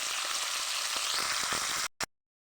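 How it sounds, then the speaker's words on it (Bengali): Bitter gourd and onions fry in a pan with a loud, steady sizzle and occasional crackles, then the sound cuts off abruptly near the end. "আমি 2 পাশটা লাল লাল করে ভেজে নেব, ও পেঁয়াজগুলো ভেজে নেব লাল লাল করে"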